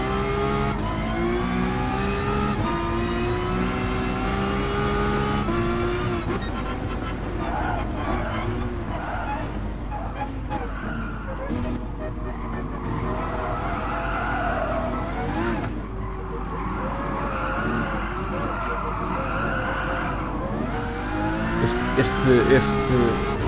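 Ferrari race cars in Gran Turismo Sport, an online race event, with engines droning and revving continuously and tires skidding and squealing through corners, while a player talks over the racing throughout.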